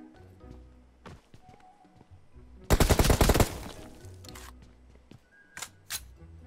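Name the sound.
gunfire from a video game (PUBG)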